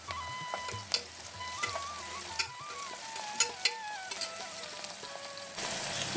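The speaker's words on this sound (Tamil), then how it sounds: "இஞ்சி பூண்டோட பச்சை வாசனை போகிற வரைக்கும் கொஞ்சம் நேரம் வதங்கட்டும்" Crushed ginger and garlic with slit green chillies sauté in a pan, a soft, steady sizzle broken by scattered clicks and scrapes as the spatula stirs, close and quiet without speech.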